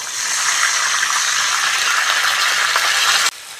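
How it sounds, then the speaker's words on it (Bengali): Water poured into a pan of fried onion and garlic, a loud steady rushing sizzle with gurgling for about three seconds before stopping abruptly, no voices. "এবার অল্প করে জল দিয়ে দেবো।"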